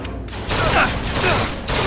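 Gunfire in Bioshock Infinite, likely the burst gun, crackles in loud, rapid bursts, several volleys packed into two seconds against a noisy in-game background.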